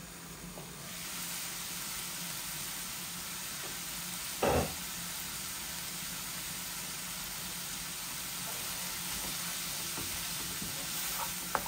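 Meat and potato bhuna with cherry tomatoes sizzling in a pan, a continuous soft frying hiss at close range with one brief clatter partway through and no talking.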